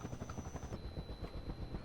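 A helicopter in the Garry's Mod TTT video game gives a steady, dense rotor chop with a continuous engine whine, fairly faint but constant throughout, with no voices.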